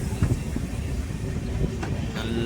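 Visakhapatnam Superfast Express running on the line between Nizamabad and Visakhapatnam, heard as a steady close rumble of wheels and carriage with faint rhythmic clatter, no voices.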